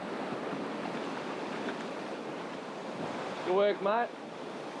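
Ocean waves washing over a rocky coastline during an abalone dive, a steady broad roar of surf and wind close to the microphone, with someone briefly speaking near the end.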